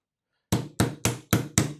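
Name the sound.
hammering a gas tube of an HPA Saiga 12K airsoft gun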